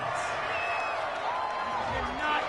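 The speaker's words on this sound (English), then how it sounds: "This home crowd, they're happy with that call." Home crowd in an American football video game, Dolphins at Falcons, roaring and cheering steadily at a distance as a continuous wash of noise, with voices talking over it.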